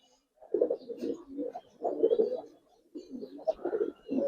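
Giribaz and coloring pigeons cooing in soft, repeated throaty bursts, several close calls rising and falling with short pauses between them, no talking.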